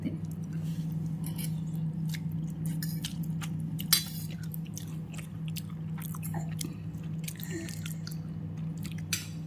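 A child chews noodles up close, with soft wet biting and mastication sounds that continue throughout, along with occasional light clicks of utensils or a dish.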